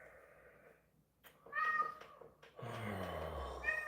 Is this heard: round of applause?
no